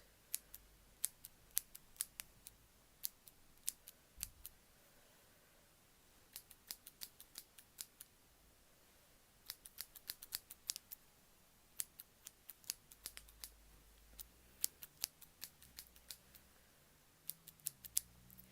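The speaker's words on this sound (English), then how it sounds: "I'm gonna go ahead and cut your bangs" Scissors snip hair bangs in many quick, crisp clusters of close, soft cuts over a quiet background, with pauses between bursts.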